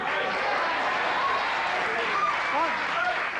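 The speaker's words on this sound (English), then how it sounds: "Appreciate the applause" A late-night television studio audience applauds in a dense, even roar of clapping and cheering that holds steady throughout, with a voice faintly heard within it.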